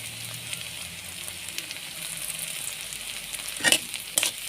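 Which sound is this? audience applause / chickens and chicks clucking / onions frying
onions frying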